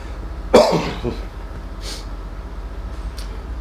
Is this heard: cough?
yes